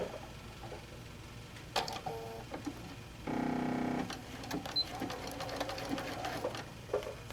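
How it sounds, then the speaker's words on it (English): A sewing machine stitches paper-pieced quilt fabric with a quarter-inch foot at shortened stitch length, quiet handling clicks followed by a short, steady whirring burst of stitching, then more soft tapping and rustling. "now at this point we're going to take and we're going to stitch"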